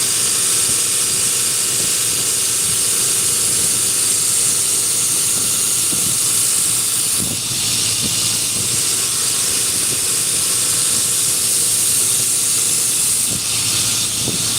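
A belt grinder works a knife blade, its worn abrasive belt producing a loud, continuous rushing hiss that holds steady for the whole stretch with no voices.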